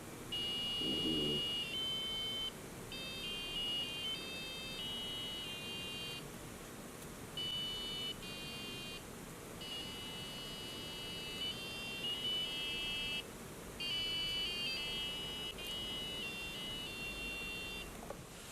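Handsound electronic instrument played by moving fingers in front of two small sensors, producing thin, bright beeping tones in short melodic phrases with pauses, over a steady background hiss.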